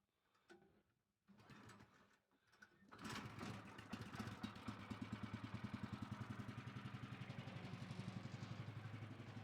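Small portable sawmill engine with choke on, heard being pulled and catching. It then settles into a steady, fast, even chugging idle that carries on alone at moderate volume.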